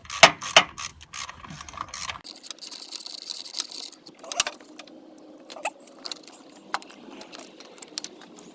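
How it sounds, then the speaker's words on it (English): A socket wrench ratchets on a 13mm alternator bracket bolt in the engine bay of a 2003/04 Ford Mustang SVT Cobra. Quick bursts of close clicking come in irregular runs, with scattered metallic taps and handling noises. "I'm going to take off this bracket here with a 13mm."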